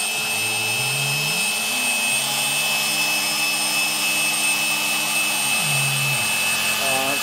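A Kress spindle milling on a Tormach PCNC 1100 CNC mill gives a continuous, loud, whining hum. Its pitch shifts and glides as the cut changes, with steady machine noise throughout.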